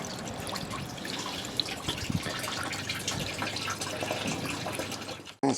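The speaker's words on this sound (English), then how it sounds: "I'm going to try to flush it through the radiator at least a little bit." Water runs steadily as it is flushed through the radiator of a Subaru Forester with oil in its coolant, a continuous trickling splash with a few drips, ending in a brief clunk.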